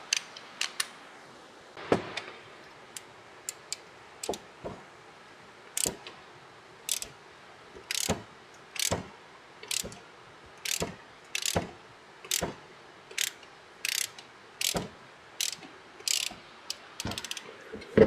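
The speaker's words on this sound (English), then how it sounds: "So let's crank it over." Hand ratchet cranks over a Nissan QR25 engine with the spark plugs removed: a run of sharp, evenly spaced clicking bursts, close and clear, growing steadier and quicker toward the end.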